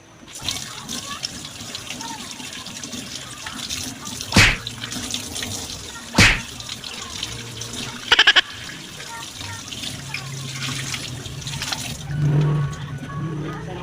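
Tap water runs in a sink while vegetables are washed for boiled pork soup, a steady hiss with a few loud splashy bursts, under a voice talking.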